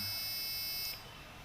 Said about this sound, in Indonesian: lalu ada push button yang kedua, ini akan menyalakan buzzer seperti ini